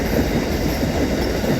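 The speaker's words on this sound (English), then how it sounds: "Good sized train for a blue scope train on a Tuesday." A BlueScope freight train hauling hopper wagons rolls past steadily on the Stony Point line, a continuous close rumble of wheels on rail with faint squeal.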